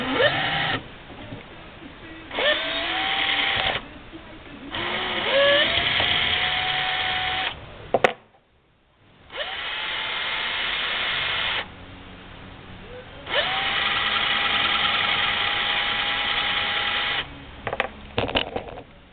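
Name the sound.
case trimmer trimming .44 Magnum brass cases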